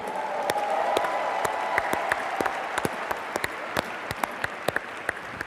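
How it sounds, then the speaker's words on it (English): Audience applause fills a large corporate event hall, a dense steady wash of many hands clapping with sharper individual claps popping out toward the end, sustained throughout. "How about a big round of applause for our corporate team?"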